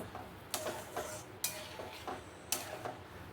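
Ripe mango pieces and sugar being stirred for jam with a utensil in a pot, a few sharp scraping clinks spaced about a second apart, quiet and close with no talking.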